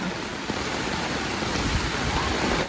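Steady rain from Typhoon Carina falling in a broad, even hiss, continuous throughout with no voices.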